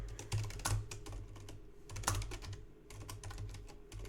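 Rapid typing on a computer keyboard, a dense close run of clicking keystrokes in uneven bursts over a low steady hum, with no talk.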